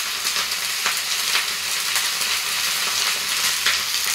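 Mustard oil sizzles and crackles steadily in a pan, a dense, bright hiss close by with no voices, heard while preparing a cabbage and fish curry.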